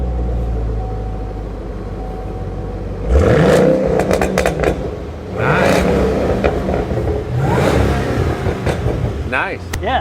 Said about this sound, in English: it's still got a muscle car sound